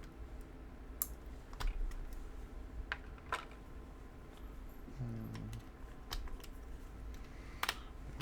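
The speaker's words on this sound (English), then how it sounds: "let me pull these" Keycaps being pulled off a mechanical keyboard: scattered sharp plastic clicks and snaps at irregular intervals, close and fairly quiet, over a faint steady room hum.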